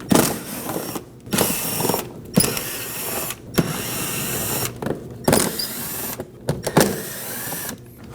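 A power tool whirs in repeated bursts of about a second each as 5.5 mm fender screws are backed out on a 2015–2024 Ford Edge 2.0L, loud and close with brief pauses between screws.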